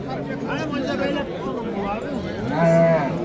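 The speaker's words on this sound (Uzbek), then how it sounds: "Ona bola sigirlar mana." Cows moo at a busy livestock market, a couple of drawn-out lowing calls over crowd chatter and voices, with one louder moo near the end.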